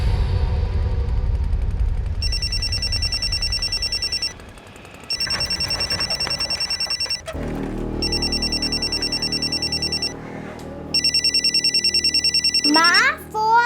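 A telephone rings in repeated bursts of electronic trilling that are loud and close, separated by short gaps, with background drama music and other sounds between the rings.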